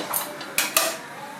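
A pot of potato dal is lifted off the stove, with a few sharp metallic clanks and scrapes of cookware in quick succession, close by.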